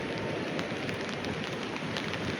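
Heavy rain pouring near an overflowing dam, a dense steady hiss of drops hitting surfaces with scattered sharper splashes, constant and close with no voices.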